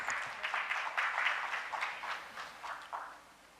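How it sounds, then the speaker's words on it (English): Audience applause at a grand finale presentation for a university team, a moderately distant, fairly faint patter of many hands that tapers off toward the end. "please give an applause."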